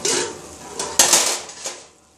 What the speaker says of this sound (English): Sorry for the clangety clang.